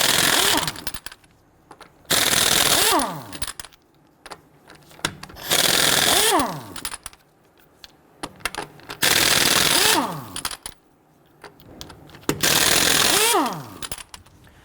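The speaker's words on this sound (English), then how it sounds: "loosen and remove the lug nuts." An impact power tool with a 19mm socket rattles off the lug nuts on a Ford Explorer's rear wheel in four loud, rapid hammering bursts, each winding down with a falling whine, separated by quieter handling clatter.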